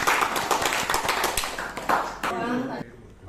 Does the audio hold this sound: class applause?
yes